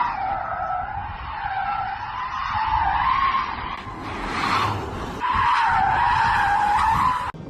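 A Tesla Model 3 Performance AWD's tires skid and squeal continuously as it drifts in drift mode, with a steady electric drivetrain roar underneath and brief surges of louder screeching.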